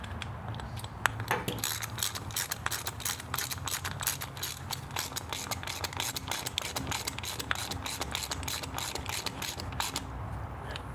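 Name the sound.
tightening a bolt on Harley Road Glide intake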